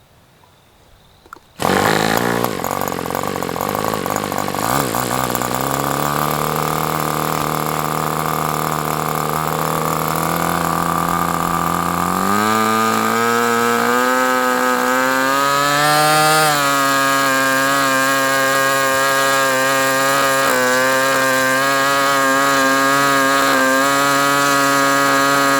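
A small two-stroke engine on Swamp Juice fuel, spitting fuel from the carburetor, starts abruptly after a quiet moment and runs loud and steady with a rising, buzzing drone that climbs in pitch partway through.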